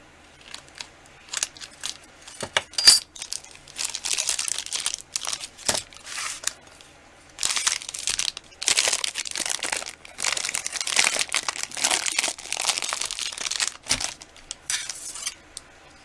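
Plastic wrapping crinkling and tearing as it is pulled off blocks of polymer clay, close and loud, with bursts of crackling and rustling broken by short pauses and a few sharp clicks; no speech.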